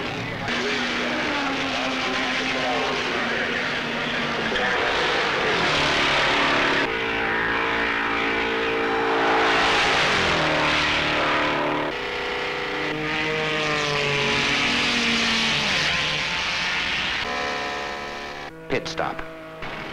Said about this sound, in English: But off with a roar in good position is Cinderella herself, the Javelin from American Motors.